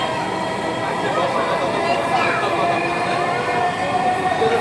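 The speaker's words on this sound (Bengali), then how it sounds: "আমাদের গন্তব্যে পৌঁছে দিয়ে মেট্রো রেল আবার ছুটে চললো তার নিজস্ব গন্তব্যে।" Dhaka metro rail train pulling away from a station, a broad continuous rumble and rushing roar with faint high whine, loud and steady throughout amid crowd noise.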